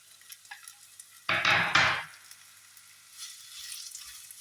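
Sliced onions hit hot oil in a pan for Sri Lankan chicken curry, setting off a sudden loud sizzle in two bursts that quickly settles to a quieter crackle, with light utensil taps before it.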